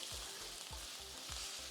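Chopped onion with ginger-garlic sautéing in a pan for a garlic curry, a steady close hiss of frying with soft rhythmic stirring scrapes repeating roughly every half second, no voices.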